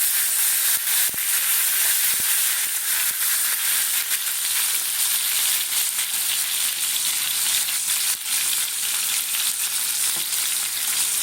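Whole garam masala, bay leaves and tomato sizzle steadily in hot oil, a loud, even frying hiss with faint stirring clicks, close and continuous with no voices.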